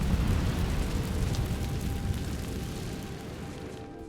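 The Incendio fire spell cast in Hogwarts Legacy gives a steady, rumbling whoosh of flame that starts loud and slowly fades over a few seconds, with no talking over it.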